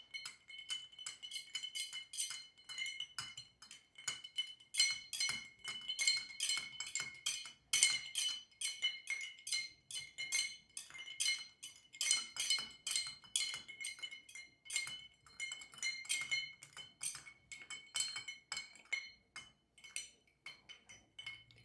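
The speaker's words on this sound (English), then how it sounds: "then you take your stirring spoon, and then go ahead and stir it until it's chilled." Ice is stirred in a glass with a bar spoon for a Manhattan cocktail, making continuous bright clinks and rattles in an uneven rhythm, close and moderately loud, with no talk.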